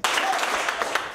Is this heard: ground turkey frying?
no